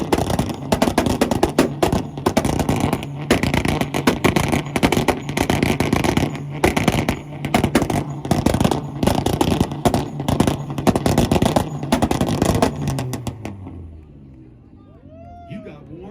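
Volkswagen car revving hard in a two-step rev battle at a car meet, rapid crackling pops and bangs firing in dense bursts, loud and close, with voices over it, then fading near the end.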